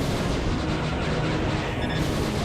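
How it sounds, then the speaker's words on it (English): Panzer Dragoon II on the Sega Saturn gives loud, dense, continuous game gunfire and booming blasts as shots fire at enemies, a steady barrage with no voices. "You can really use the hold down and use the auto target to get lots of shots and take down lots of targets at once."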